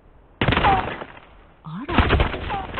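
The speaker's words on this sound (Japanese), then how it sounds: "今のは銃声かしら。" Bursts of rapid gunfire in the video game Super Mecha Champions rattle loudly, two sustained volleys separated by a short pause, with a brief voice-like sound mixed in.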